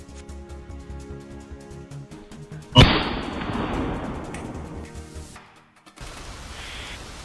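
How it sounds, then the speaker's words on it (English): A single loud gunshot during a wild boar hunt near a farm cracks out and echoes through the forest in a long, fading reverberant tail, with background music before and after. "The gunshot echoed through the forest."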